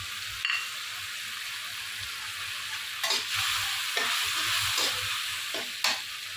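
Dried fish stirred and fried in a cooked garlic spice paste, with a constant sizzle and a few distinct scraping stirs spaced a second or so apart.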